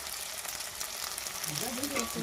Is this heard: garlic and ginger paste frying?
yes